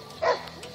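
A single short dog bark at a dog warm-up before a world championship on a large sports field, one sharp yelp standing out against quiet background murmur.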